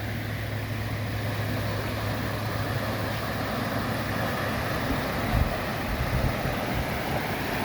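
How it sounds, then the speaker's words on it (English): Spring-fed waterfall at Mammoth Spring, a steady broadband rush of falling water heard close by, continuous and unbroken with a faint low hum beneath and no talking. "Here's another waterfall coming from the spring, which starts over there."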